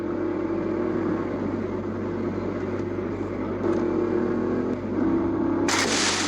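A car idles and drives steadily with a low, continuous engine rumble that carries on alone without speech, and a brief noisy burst comes near the end.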